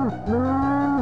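A cow moos in the South Park N64 video game, a single loud, close, low moo lasting about a second, with no talking.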